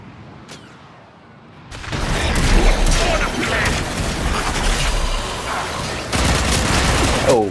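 Rapid automatic weapon fire in the Warframe video game, a dense loud burst of shots starting after a short quiet lead-in and continuing steadily to the end with booming impacts.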